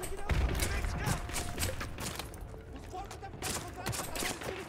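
Gunfire crackles in Call of Duty: Modern Warfare 2 Remastered as rapid, repeated shots and bursts ring out continuously at fairly low volume, with a heavier thump near the start.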